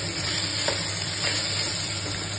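Rice sizzles and is stirred in a hot pan with ginger-garlic paste for veg pulao, a close, steady frying hiss with soft scraping strokes and no voices.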